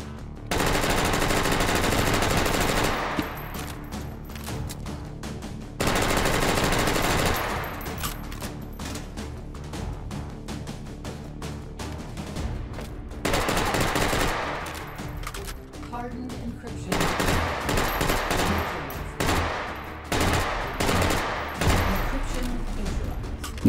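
Rapid bursts of gunfire from the video game H3VR, Take & Hold mode, with dense automatic fire broken by brief pauses and faint rattles between volleys.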